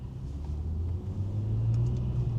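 A Mercedes car driven in sport plus mode gives a steady, low engine rumble with road noise from inside the cabin, building slightly, with no talking.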